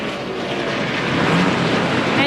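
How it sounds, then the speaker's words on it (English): 2002 NASCAR Craftsman Truck Series race truck engine firing up and idling at a race, a loud, steady broadband roar that swells slightly toward the end, with a voice faintly over it. "we're hearing the engine of Brian Rose fire behind us"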